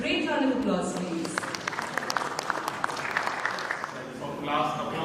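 Audience applause at a publishing industry panel event, sustained clapping from a crowd throughout, swelling briefly near the end.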